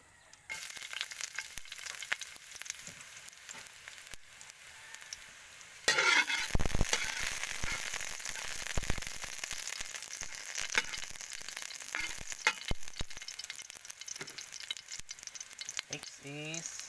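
Garlic frying in hot oil in a Filipino home kitchen, a steady dense sizzle that jumps louder at about six seconds as the garlic hits the pan, then crackles on continuously with occasional stirring clicks.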